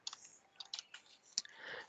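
Keys on a computer keyboard are tapped in a short, irregular burst of light, close clicks over a quiet background.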